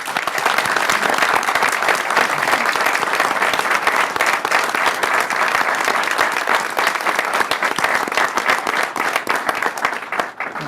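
Sustained applause from an audience at a university board of regents meeting, honoring an award recipient who is not present; steady, dense clapping throughout that fades slightly at the very end.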